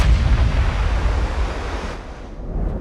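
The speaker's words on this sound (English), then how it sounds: "Here come the shells from the battleship." Battleship shells fire in Ultimate Admiral: Dreadnoughts as a deep, rumbling roar at sea, heavy at first and then trailing off into a softer wash of wind and surf.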